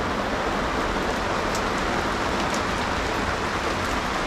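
Heavy rainstorm in St. Lucia pours down steadily, a dense, even hiss of falling rain with no pauses or voices.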